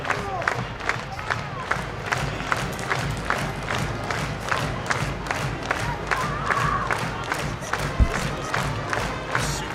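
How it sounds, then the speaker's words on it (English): A home crowd at a high school homecoming varsity football game stands and cheers through the school fight song, a steady roar of voices with band drumbeats thumping at a regular pulse throughout. "Hometown crowds on their feet as we enjoy the fight song"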